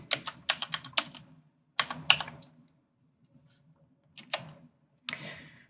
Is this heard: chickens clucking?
no